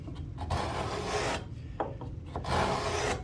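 A Gratsäge dovetail saw rasps through wood in repeated pull strokes, each a dry, scratchy rush separated by brief pauses, close and clear with no voices.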